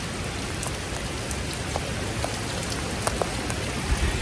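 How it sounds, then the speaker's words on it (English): Steady rain patters down on a pair of Jordan sneakers outdoors, a dense, even hiss with scattered brighter droplet taps and no voices throughout. "I don't know if I can handle standing out in the rain for 5 minutes"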